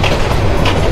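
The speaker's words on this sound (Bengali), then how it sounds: "ইতিমধ্যে আমাদের ট্রেন প্রবেশ করলো ময়মনসিংহ জংশনে আর আমাদেরকে হচ্ছে 1ম প্ল্যাটফর্মে দিয়ে দিয়েছে।" An intercity express train rolls into Mymensingh junction onto the first platform, a loud, close, continuous rumble of wheels and carriage noise heard from on board.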